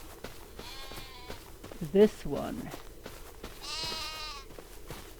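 Sheep bleat in Farming Simulator 25, with two drawn-out bleats about three seconds apart, one early and one late, plus soft footsteps and a short burst of speech between them.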